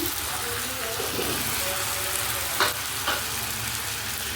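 Vegetables go into a pan of mutton curry that has been fried down until the oil separates, giving a steady close sizzle and frying hiss with a couple of brief clatters from stirring.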